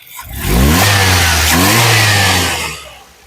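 A 2011 Maruti Suzuki Swift VXI petrol engine is revved once from idle, climbing into a loud sustained roar for about two seconds before falling back, heard up close with no talking.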